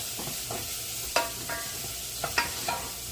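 Onion cooks in a pan with a bay leaf and sprigs of fresh thyme, a soft steady sizzle broken by a few light clicks and scrapes of stirring, with no speech.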